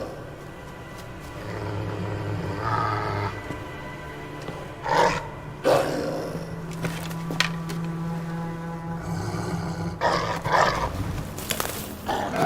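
A wolf pup growls in the video game Assassin's Creed Valhalla, low rumbling snarls in several short bursts with pauses between, moderately loud over a quiet ambient game background.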